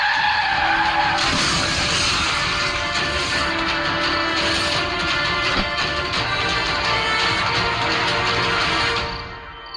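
Car skidding on a road, a loud sustained tire squeal and scraping slide lasting several seconds before cutting off, with no talking over it.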